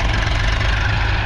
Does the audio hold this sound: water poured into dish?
no